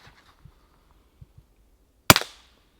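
A single suppressed .22 shot from a rifle fitted with an SAK moderator and firing CCI quiet ammo: one sharp, fairly loud crack with a brief fading tail, preceded by a few soft ticks and handling clicks.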